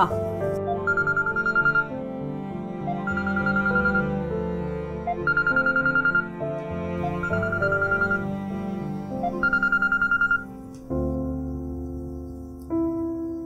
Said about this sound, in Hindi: अरे अब किसका फोन आ गया?